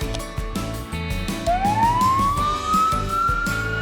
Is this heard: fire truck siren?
yes